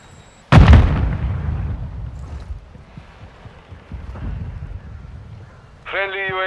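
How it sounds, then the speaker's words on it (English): Grenade explosion in Call of Duty: Modern Warfare II, a single loud close blast with a long rumbling decay, followed by a faint electronic tone. "Throwing grenade"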